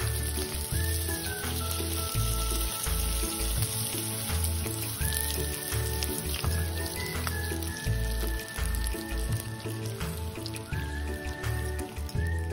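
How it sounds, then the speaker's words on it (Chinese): Thin tofu skin deep-frying in a small batch of hot oil, a steady dense crackle and patter of bubbling close by, with a low repeating hum underneath and no talking. "油热后，分少量多次油炸，避免油炸过程中全部粘黏一起。"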